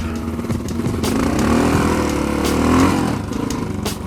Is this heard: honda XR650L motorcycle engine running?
yes